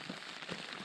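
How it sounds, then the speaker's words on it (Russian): Steady rain in Altai hissing on a surface, a dense even patter with a few soft thumps of drops, no voices. "Дождь еще идет."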